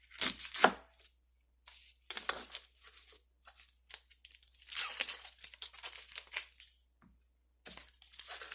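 A knife chops half an onion on a board for gyoza filling, giving crisp, rapid bursts of cuts separated by short silent pauses, close and moderately quiet.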